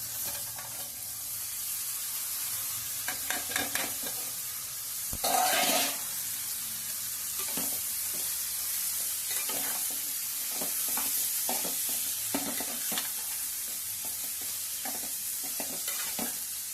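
Cluster beans stirred and frying in a spice masala in a pan, a steady soft sizzle with repeated scraping stir strokes and a louder clatter midway, no talking.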